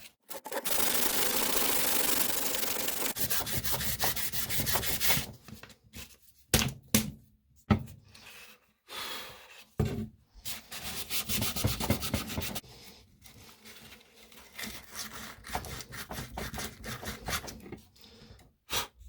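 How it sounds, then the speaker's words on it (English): Sandpaper scrubs steadily back and forth across a 1966 GMC headlight bezel, a long continuous rasp that then breaks into shorter strokes with pauses and light knocks, close and alone. "then we're going to graduate up to 400 grit, and then I will prime it"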